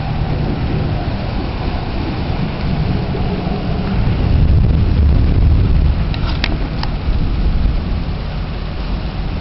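Steady rain during a stormy spell of strange weather, with a dense continuous wash and low rumbling that swells in the middle, heard alone without talk.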